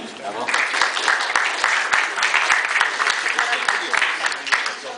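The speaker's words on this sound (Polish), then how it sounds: "Prosimy o brawa." An audience applauds the winner of the first part of a biathlon duel, a sustained, fairly close round of clapping with scattered crisp claps and some voices mixed in.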